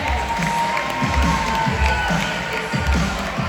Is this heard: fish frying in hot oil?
no